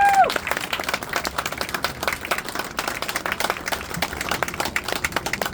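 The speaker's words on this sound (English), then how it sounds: "A round of applause." Audience applause at an outdoor street naming ceremony, a crowd clapping steadily for several seconds without any talk.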